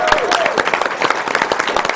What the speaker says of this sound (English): let's get some applause and noise going